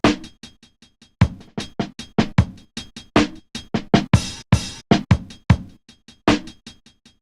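A punchy vinyl drum kit loop on Maschine repeats steadily, with kick, snare and crisp hi-hat hits in a tight rhythm, loud and dry with no voices.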